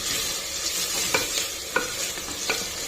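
Ginger garlic paste frying in a pan, a steady bright sizzle with a few soft stirring scrapes and clicks from a spoon scattered through it.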